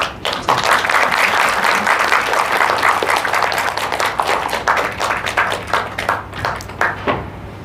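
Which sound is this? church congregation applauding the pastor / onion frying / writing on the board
church congregation applauding the pastor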